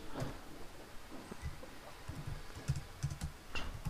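Quiet, close keystrokes clatter in irregular bursts as an SQL query is typed on a computer keyboard, with no voice over them.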